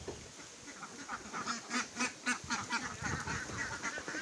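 Ducks inside their house eating mixed wet feed, giving a busy chorus of close, rapid quacks and honking calls with soft pecking and shuffling underneath.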